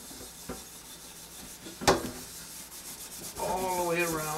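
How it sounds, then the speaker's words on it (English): A wok is scrubbed with water around its rivets, giving faint rough rubbing strokes and a sharp scrape near the middle. Wetter swishing builds toward the end. No one speaks over it. "give it a really good scrubbing around the rivets"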